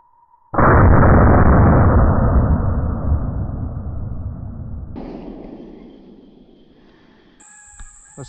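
A single loud gunshot from an 1874 Shiloh Sharps rifle in .50 3 1/4" firing a 425-grain bullet into a chunk of wood. A sharp blast rolls into a long, fading rumble, then faint clicks and a brief electronic beep.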